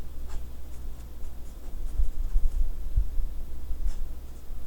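A pen writes out a physics equation on paper or a board, giving a faint continuous scratching with a few soft taps. A steady low hum runs underneath.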